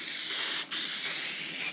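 A multi-purpose cleaning spray is pumped onto boat carpet: a faint, steady airy hiss with two brief breaks where the spray stops and restarts, no talking.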